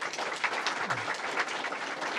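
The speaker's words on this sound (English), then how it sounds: "I want to give her a special round of applause" A round of applause from the audience for Melinda Pearson at a New York governor's event, brisk, even clapping of many hands, moderately loud, with a faint brief voice underneath.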